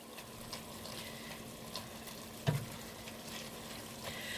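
Chicken fries in a pan for a Cajun pasta jambalaya with a soft, steady sizzle, punctuated by a few faint clinks and stirring sounds.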